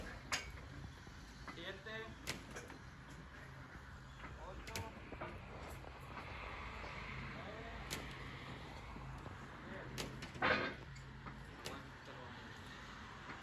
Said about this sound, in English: You can really hear the creaking and popping.